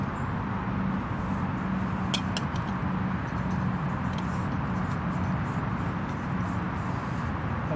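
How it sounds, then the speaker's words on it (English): Steady roar of motorway traffic passing just behind the listener, a continuous broadband rush of cars and heavier vehicles with occasional faint higher clinks, fairly loud and unbroken. "All that noise is traffic on the motorway just behind me."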